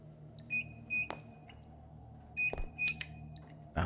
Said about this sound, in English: Check the source of beeping.